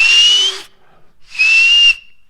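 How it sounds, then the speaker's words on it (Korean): Two loud, shrill blasts on a whistle, each about half a second long and separated by a brief pause, sounding close and piercing with no talk. "호루라기를 그렇게 불었어."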